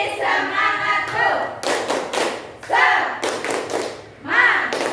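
At a teachers' training session in Indonesia, a group performs a rhythmic spirit clap. Loud, sharp bursts of clapping alternate with chanted voices and shouts in a lively call-and-response pattern.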